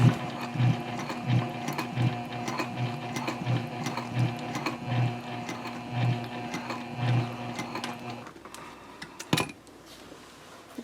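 A sewing machine stitches a bag connector at a 3.5 stitch length, giving a steady, rhythmic mechanical clatter of regular needle strokes that runs for about eight seconds and then stops, followed by a sharp click.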